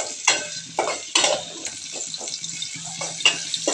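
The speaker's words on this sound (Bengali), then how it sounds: "এখানে সুন্দর করে তেল আর পেঁয়াজ সুন্দর করে নাড়াচাড়া করে ভেজে নিচ্ছে।" Chopped onions fry in oil while being stirred. Repeated close scraping strokes sit over a soft, continuous sizzle, with no talking.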